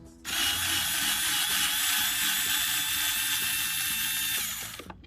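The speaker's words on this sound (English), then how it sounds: "Then we get our power tool." A power tool whirs and rattles continuously for several seconds while removing bolts during a car pedal kit installation, loud and close, then winds down.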